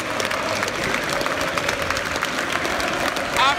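Football crowd applauding in the stadium after Wolves' 2–3 loss to Tottenham, a broad wash of clapping and crowd noise from many fans, continuous and fairly loud across the stands.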